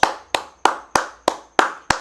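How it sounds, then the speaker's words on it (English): Seven sharp, evenly spaced hand claps ring out close and alone, each a crisp slap with a short decay, like one person clapping slowly in a quiet room. "let's give a big round of applause"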